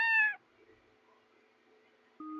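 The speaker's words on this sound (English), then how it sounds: "I can't focus with you meowing in the most important moment" One short, clear cat meow at the very start in the Night Reverie video game, then quiet low game music and a soft synth tone returning at the end.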